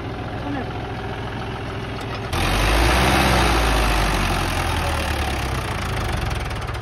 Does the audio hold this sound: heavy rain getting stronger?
no